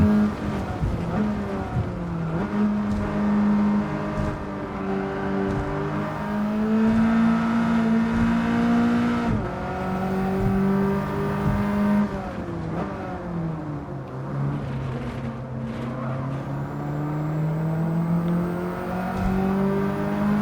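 Engine of a pickup truck racing in Gran Turismo 7 on PS5, a loud, steady drone that rises and falls in pitch through gear changes while cornering on S-curves, heard alone with no talking.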